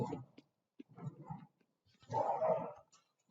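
A dog playing indoors gives short, fairly faint bursts of yips, whimpers and barks, separated by brief pauses, with no talk over them.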